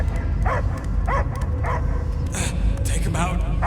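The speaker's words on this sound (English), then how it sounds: "I hear only barking" Dog barking and yipping in a Guardians of the Galaxy video game scene, several short barks in a row over a steady rumbling game soundscape, with some whimpering tones.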